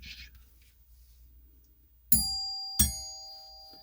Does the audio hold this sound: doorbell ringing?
yes